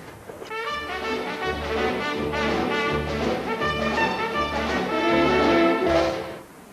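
An orchestra plays the charleston-like trumpet solo from Gershwin's An American in Paris, with a bouncy melody over rhythmic low accompaniment. It is full and continuous, with no speech.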